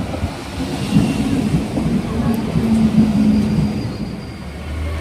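A Puducherry–Tirupati MEMU Express moves off alongside a Chennai Beach local train on a single-line stretch between Chengalpattu and Arakkonam, giving a steady low rumble with a faint tonal hum, heard continuously from inside the carriage.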